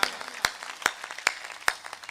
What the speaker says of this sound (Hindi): एक बार तालियां बजाओ मस्ती में